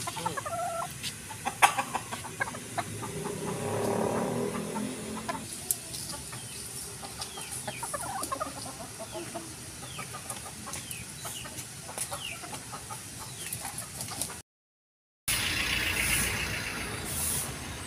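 Chickens cluck and murmur steadily around feeding time, several birds close by with occasional sharper calls over a low background, then a brief gap and a resumed burst of noise.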